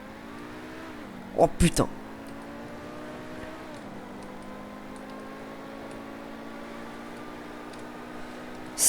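Pegassi supercar in GTA V Online, its engine holding a steady rising drone with shifting harmonics, briefly broken by a loud burst; a man exclaims over it.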